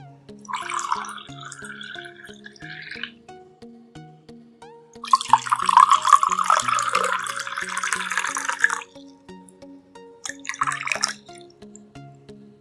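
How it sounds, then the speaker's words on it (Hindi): Water poured a little at a time into two drinking glasses for a fiber drink demonstration, heard as three separate pours, the middle one longest, over a faint musical background. "और इन ग्लासेस में हम थोड़ा थोड़ा पानी डालते हैं।"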